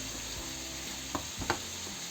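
Steady sizzle of meat frying in hot oil, with a couple of brief clicks and scrapes from stirring partway through.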